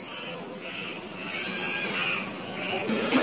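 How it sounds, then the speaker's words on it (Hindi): A multimeter continuity beep sounds while a BS6 bike fuel injector wire is tested: a steady high-pitched electronic tone runs continuously, fairly loud, with faint background noise. "इसके अंदर से बीप का प्रॉपर साउंड आपको सुनाई दे रहा होगा"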